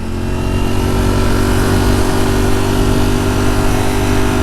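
A Streetfighter motorcycle engine revs through a downshift to third with an auto blip, a loud, steady close-up engine roar holding throughout with no talk.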